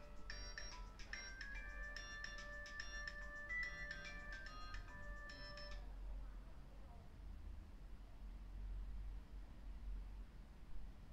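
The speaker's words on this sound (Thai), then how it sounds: "มีโทรศัพท์มาต้องประทานโทษนิดหนึ่งนะ" Mobile phone ringtone for an incoming call, a repeating melodic electronic tune that rings in quick bursts for about six seconds and then stops, leaving quiet room noise.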